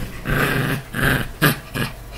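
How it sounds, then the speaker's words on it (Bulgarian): A dog growls indoors in several low, rumbling bursts of about half a second each, fairly close and loud, separated by short pauses. "Имаме едно куче в стаята, може да го чувате."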